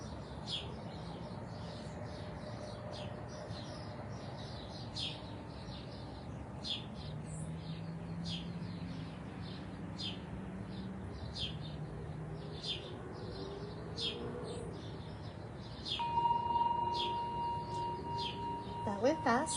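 Faint birdsong at sunrise, chirps and calls repeating over a soft background hiss, distant and scattered, with a brief louder tone near the end.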